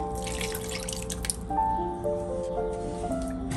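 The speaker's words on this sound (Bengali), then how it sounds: "আরো একটু জল অ্যাড করছি" Water is poured into a pan of fish rezala cooking over a medium flame, giving soft splashing and dripping sounds that come close and at low volume.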